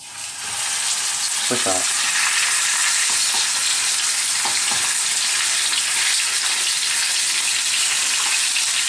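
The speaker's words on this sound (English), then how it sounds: "Be very careful because it's heavy and you don't want the oil to splatter on you, so place it in very gently." A stuffed turkey breast fries skin side down in hot oil, giving a loud, steady sizzle with crackling pops right after it is laid in. A voice speaks briefly.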